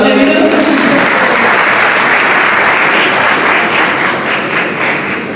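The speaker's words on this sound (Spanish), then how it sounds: "Sí, un aplauso." A theater audience applauds loudly and continuously, a dense wash of many hands clapping that holds steady before easing slightly toward the end.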